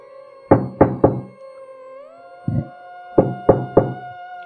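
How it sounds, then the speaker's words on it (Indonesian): Knocking on the door of a village house's central room at night: three quick, solid knocks, a pause, one knock, then three more, close and clear over a steady background drone. "tiba-tiba aku dikagetkan dengan suara pintu diketuk"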